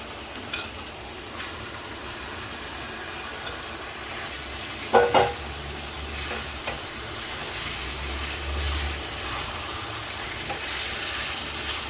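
Mutton frying and being stirred in spice masala with chilli powder, a steady close sizzle with scraping stir strokes and a brief louder clatter midway, no voices.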